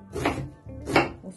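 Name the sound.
finely chopping meat, onion, pepper, dill and tail fat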